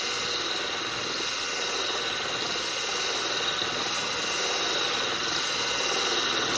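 Drill bit boring into a Buckfast glass bottle, a steady whirring power-tool drone with a gritty, constant grinding hiss, close and even throughout with no talking.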